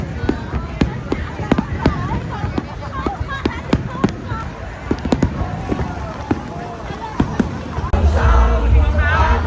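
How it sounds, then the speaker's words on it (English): Repeated sharp bangs of fireworks pop irregularly over a murmuring crowd and rain noise at a Vietnam National Day celebration, with people talking throughout and a louder rush near the end. "With the rain, the fireworks are not so clear, but it's part of the festive celebration"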